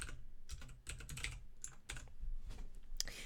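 Close, quiet keystrokes come from a computer keyboard as JavaScript code is entered, in irregular bursts of clicks separated by short pauses.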